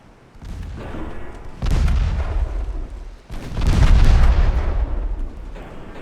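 Naval gunfire booms in the Ultimate Admiral Dreadnoughts video game, heard while a ship turns and launches torpedoes: two long, heavy rumbling volleys of overlapping blasts that swell and roll on over low background noise.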